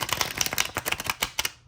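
Tarot cards riffled and shuffled by hand in a rapid run of crisp, papery flicks and slaps, close and fairly loud, with no talking.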